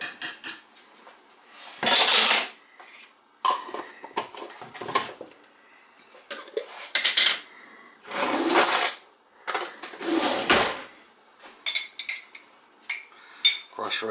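Metal spoons clinking against dishes while seasoning a pork tenderloin roast for the crockpot, a series of sharp, close clatters and scrapes in bursts separated by quiet pauses.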